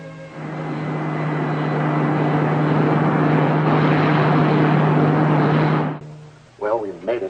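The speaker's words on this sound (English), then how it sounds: "Ground control will bring you in for landing." A science-fiction radio drama's spaceship landing effect: a loud, steady roaring engine drone with a low hum runs for about six seconds, then cuts off abruptly. A brief voice follows.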